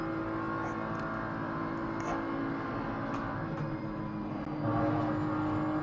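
A racing car engine from a sim racing game, a steady droning whine with shifting revs that swell slightly toward the end, continuous and moderately loud with no talk over it.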